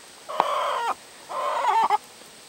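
Barred Rock hens squabble over a hornworm, letting out two loud, close, drawn-out squawking clucks in quick succession, with no one talking.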